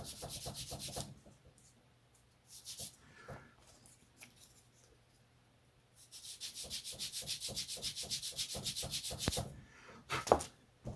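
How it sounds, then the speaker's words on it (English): Bursts of rhythmic sanding on wood, quick back-and-forth rasping strokes in several runs separated by short pauses, close and fairly loud. "And then we take our sanding block"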